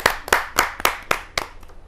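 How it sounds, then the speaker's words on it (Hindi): A short burst of hand clapping welcoming a poet at a Hindi poetry gathering, several sharp claps in an irregular rhythm, fairly close, with no voices. "जहाँ जोरदार तालियों के साथ उमंग सरीन जी का हम स्वागत करते हैं।"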